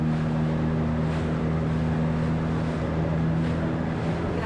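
A boat creeps along Lake Powell at about two knots, producing a steady low engine hum and droning tones mixed with wind rush on the microphone, continuous and fairly loud, with no one talking.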